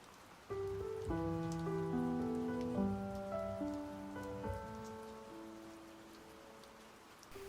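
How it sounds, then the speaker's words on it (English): Gentle rain patters steadily in the background while soft piano chords ring out and fade over it. "the pleasantly familiar sound blending with the gentle rain outside"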